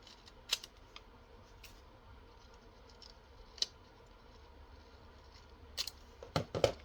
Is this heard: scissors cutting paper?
yes